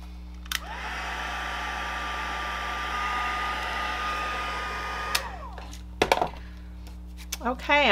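A heat tool blows hot air for heat embossing a card, a steady whooshing hiss that cuts off partway through, followed by a few light knocks and clatters on the craft table.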